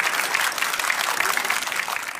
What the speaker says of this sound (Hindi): ताली बजाइए भाई जोर से